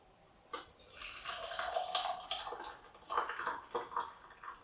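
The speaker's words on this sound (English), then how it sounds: "So you can just pour that straight in." Homemade spiced mango chutney poured from a pan into a small glass jam jar, a soft continuous trickle with faint clinks and drips, close and quiet.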